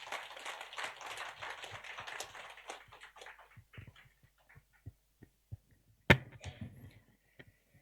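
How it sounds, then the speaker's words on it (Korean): Church congregation at a Sunday worship service clapping to welcome a visiting speaker, a dense burst of applause that thins out into a few scattered claps and taps, faint and distant. "우리 박수로 환영하겠습니다."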